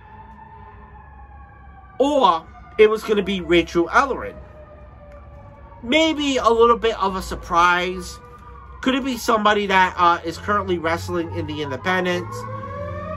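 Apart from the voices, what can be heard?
siren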